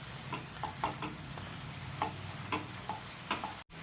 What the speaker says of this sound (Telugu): ఇది దగ్గర పడేంత వరకు ఇదే విధంగా కలిపేసుకోండి.